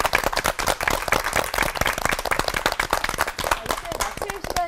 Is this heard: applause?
yes